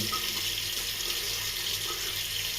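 Cold water runs steadily from a tap into a sink, a close, continuous hissing splash at even loudness with no talking.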